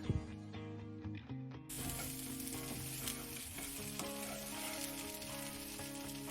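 Masala frying in a pan with curry leaves and coriander, for chicken fry piece biryani: a dense, loud sizzle that jumps in after a quieter opening, with ratcheting scrapes and clinks of stirring running throughout, no speech.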